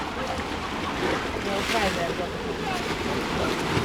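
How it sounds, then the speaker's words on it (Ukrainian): Baltic Sea surf breaks on the beach at Gdynia, Poland, a steady close wash of waves mixed with gusty wind buffeting the microphone. "Ну волна така. Да, волна клас."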